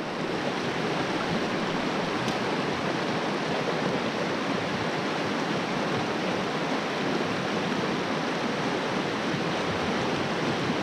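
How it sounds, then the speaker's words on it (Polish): Fast-flowing mountain river in June, a steady, dense rush of water that stays loud and unbroken throughout, with no voices over it. "Taka piękna górska rzeka."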